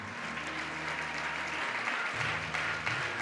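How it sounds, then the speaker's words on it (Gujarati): Audience at a religious discourse clapping steadily and continuously, a dense close patter of many hands under a low hum. "બધા તાળીઓ પાડો"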